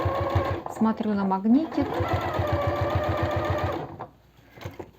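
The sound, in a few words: sewing machine stitching fabric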